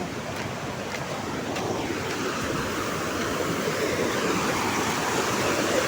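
River water rushing down from above in a mountain stream, a steady full roar of falling and churning water heard close and continuous.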